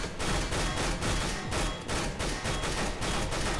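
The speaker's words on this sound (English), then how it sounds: "Shooting through the walls for some fun." Gunfire from Counter-Strike: Global Offensive, with rapid, dense bursts of shots fired through walls. The shots run almost nonstop, loud and heavily compressed, in a pulsing rhythm.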